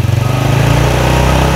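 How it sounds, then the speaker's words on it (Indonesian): Yamaha Jupiter Z motorcycle engine held at high revs, a loud steady buzzing drone that climbs slightly and stays constant, close to the bike with no talking. "Kita gas lebih atas lagi"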